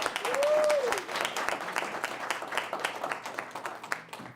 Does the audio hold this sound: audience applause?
yes